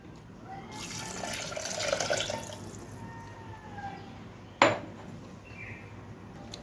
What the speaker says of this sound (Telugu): ఇప్పుడు ఇందులో చింతపండు పులుసు వేసుకుందాము